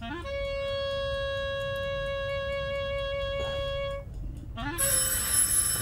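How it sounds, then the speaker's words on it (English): A sustained electronic doorbell ringing tone in the video game Attentat 1942 holds for several seconds, breaks off, then starts again with a brighter, buzzier ring, loud and close. "Doorbell's ringing."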